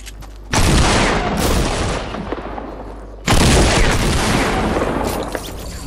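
Gunfire in a video game getaway mode comes as two loud, dense bursts, one starting early and one midway, each sustained and slowly fading like a rapid volley, with no voices.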